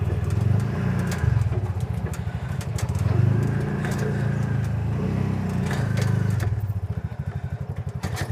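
A new Bajaj auto rickshaw engine runs close by with a steady, lumpy putter that rises and falls slightly as it revs, continuous throughout with light clatter and no clear talk.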